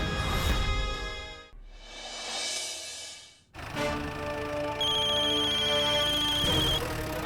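A phone ringtone rings with a repeating electronic melody, loud and close, broken by a brief pause before the tune resumes and carries on.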